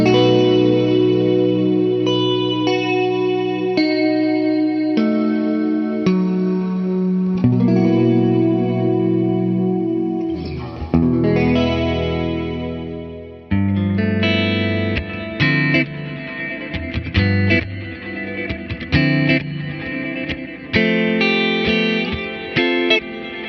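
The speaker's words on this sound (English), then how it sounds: "you get this just beautiful chorused reverb" Guitar notes and chords shimmer through a lush, wavering chorus with a long, washy reverb tail from an Encounter ambient delay and reverb pedal, played steadily and clearly with no voices.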